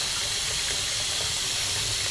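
Water released from a sink during town home repairs rushes and gurgles steadily down the drain, a loud, close, continuous flow with no voices.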